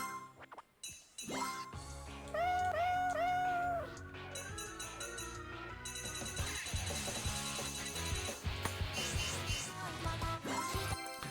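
Cat meow sound effects in a modded Super Mario Maker game, several short tonal mews repeating over busy game music and chiming jingles, with no talking.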